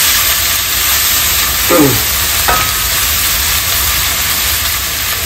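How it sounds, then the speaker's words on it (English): Whole spices, grated ginger, garlic and green chili fry in hot oil, a loud steady sizzle and hiss close by, with a couple of brief stirring scrapes in the pan. "This has to be fried for some, so that the ginger garlic, the raw smell goes out."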